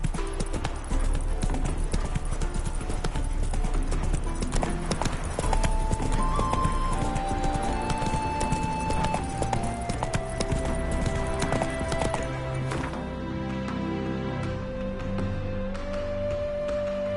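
Horse hooves clip-clop at a steady galloping rhythm in The Witcher Wild Hunt, loud and continuous, with occasional snorts, whinnies and a game music bed underneath.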